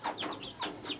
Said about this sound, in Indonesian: Ini jenis bapak ayam.